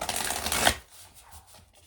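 Tarot cards are shuffled in a quick, close rustling burst lasting under a second, followed by near silence with a few faint soft movements.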